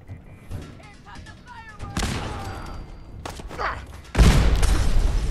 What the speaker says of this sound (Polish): Upsi, coś tam wybuchło.